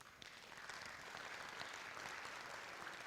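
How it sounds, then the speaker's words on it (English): Audience applause at a federal election debate hosted by the Chilliwack Chamber of Commerce, a steady, full crowd clapping throughout with no voices over it. "give yourselves a quick round of applause for that"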